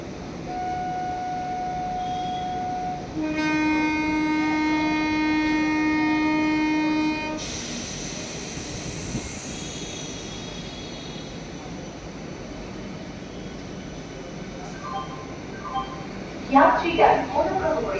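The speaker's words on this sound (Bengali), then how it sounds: "বেলঘরিয়া থেকে ছেড়ে শিয়ালদাহের উদ্দেশ্যে রওনা হবে" A Krishnanagar City–Sealdah AC local train sounds a loud, sustained multi-tone horn for several seconds as it departs Belgharia station. A softer rolling rumble follows, then a few voices near the end.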